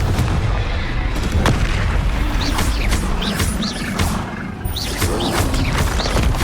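Spell blasts from the Hogwarts Legacy video game fire in rapid succession, dense booming impacts and crackling magical bursts piled over a loud, continuous game soundscape without speech.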